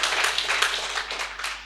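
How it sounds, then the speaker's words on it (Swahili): A church congregation claps their hands together, a dense run of fairly loud, rapid claps sustained across a short moment with no talking. "Jipigeni tu makofi"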